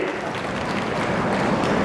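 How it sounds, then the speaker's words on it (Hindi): A crowd at an Agarwal community honour ceremony in western Rajasthan claps to welcome guests. The brief, dense applause stays steady and full across the whole moment, with voices mixed in. "जोरदार तालियां बजाकर उनका अभिनंदन और स्वागत करें।"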